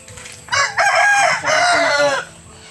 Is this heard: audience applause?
no